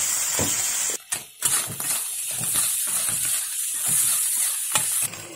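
Minced ginger and garlic stir-fried in a hot wok, loud continuous sizzling broken by scraping spatula strokes and a couple of brief dips as the pan is tossed; no talking.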